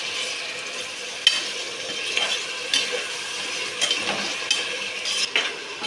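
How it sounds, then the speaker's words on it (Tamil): Tomatoes and onions are stirred in a frying pan of hot oil for a veg biryani, with a steady sizzle broken by several sharp spoon scrapes and knocks against the pan, close up and without any talking. "தக்காளியை கொட்டிக்கலாம். இப்போ நல்லா கிண்டிக்கலாம்."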